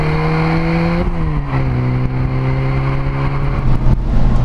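Autobianchi A112 Abarth with its 70 hp engine pulls hard on an uphill road, the steady, loud engine note dropping briefly at a gear change and then climbing again as the small car accelerates.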